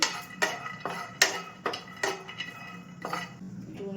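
Sago roasting lightly in a pan on a gas stove, with sharp metallic scrapes and clinks of a spatula against the pan at an irregular pace, close and fairly loud.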